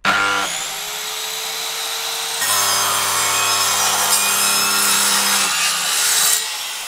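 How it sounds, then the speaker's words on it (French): A hand saw rasps steadily through a wooden flooring board laid as a flat wood floor covering, a continuous loud scraping with stroke changes partway through, close up and without talk. "Positionne la lame de scie sur le trait."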